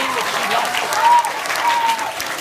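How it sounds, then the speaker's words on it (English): An audience at a school Tết celebration applauds the MCs, a dense continuous clapping with a few cheering voices rising through it. "give them a big round of applause"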